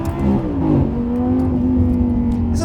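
A Lamborghini Gallardo LP570-4 Superleggera Edizione Tecnica engine revs in sport mode, a loud close-up roar whose pitch climbs, dips at a shift and then holds a steady drone, with no talk.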